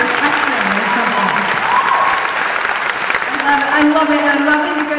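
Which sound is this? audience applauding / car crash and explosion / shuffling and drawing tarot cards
audience applauding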